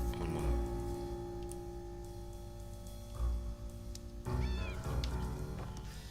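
A cat meows in the video game Impostor Factory, a few short mewing calls rising over a steady background of game music, fairly close and clear, with no talking.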